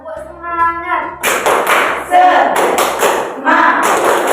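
Schoolchildren in a classroom clap out a rhythmic cheer together, loud bursts of group clapping and chanting following a teacher's spoken count.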